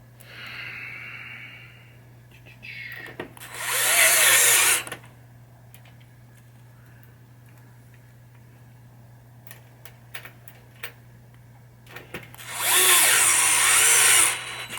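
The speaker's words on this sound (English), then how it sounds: "don't use power tools for this unless you are super comfortable with this one. I am. This is a DeWalt DCF" A DeWalt DCF 680 power screwdriver driving screws into a 1980 Williams Firepower pinball machine, two loud whirring bursts of about a second each, separated by quiet clicks and handling taps.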